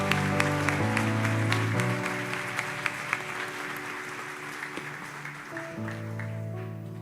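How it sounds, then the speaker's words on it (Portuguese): Church congregation applauding, a broad wash of clapping from a large room over sustained organ or keyboard chords that shift pitch partway through. "E quem acredita nessa palavra, dê um forte aplauso ao Senhor."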